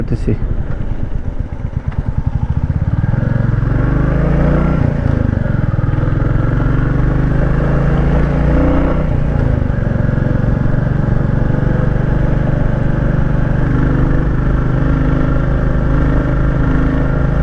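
A motorcycle rides along with a loud, steady exhaust rumble that stays close throughout, near Cherrapunji in Meghalaya, while a voice talks over the engine.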